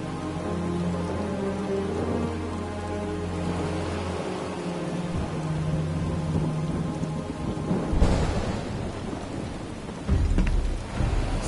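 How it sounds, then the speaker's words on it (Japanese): Heavy rain pours steadily in a scene from the video game Final Fantasy VII Rebirth, with rolling thunder rumbling low underneath and a louder crack about two-thirds through; no voices. "すごい雨だな。"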